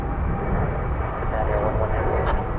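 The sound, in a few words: Japan Airlines wide-body airplane at DFW Airport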